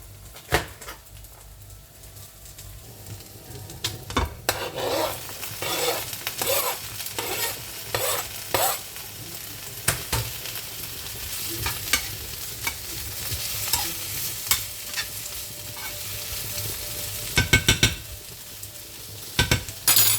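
Food sizzles and crackles steadily in a pan, with intermittent scraping stirs and utensil clinks up close.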